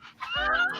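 A corgi lets out a short, high whimpering yip, a single brief nasal cry close by.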